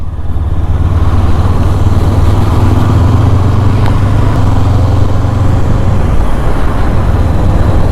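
A Honda CB500F being ridden on the road, its engine producing a steady low drone with continuous wind and road rush, loud and unbroken from start to finish.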